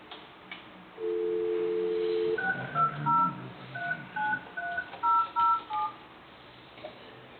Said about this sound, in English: I need to put you on hold to get, Tracy on the phone at conference